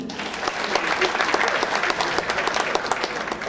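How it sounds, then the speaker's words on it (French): An audience claps continuously, a dense patter of many hands at moderate loudness, with a few voices faintly mixed in. "Si vous êtes content, on applaudit."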